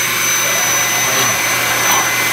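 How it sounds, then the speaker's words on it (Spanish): A blender grinds garlic for pumpkin soup, a loud, steady, continuous motor whir held close throughout, with no talking. "ya tenemos lista nuestra segunda licuadora"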